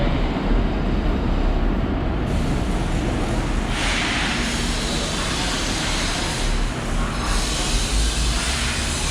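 A metro train runs along an elevated line beside a street in Macau, giving a steady, loud rushing roar with rising and falling whooshes, heard continuously without any talking.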